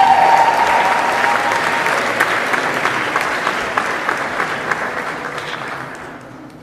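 Audience applauding graduates of an early childhood education program at a technical and vocational school graduation ceremony, a dense sustained round of clapping that gradually thins and fades out.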